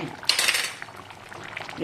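Apollo fish curry stirred in a clay pot, a close scraping and clinking of a utensil against the pot with a soft liquid rustle, fading then rising again.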